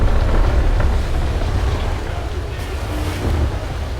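Ocean waves wash and surge around a sailing ship in the naval combat game Naval Action, a dense, loud, steady rush of surf and wind noise, with a voice talking faintly at times.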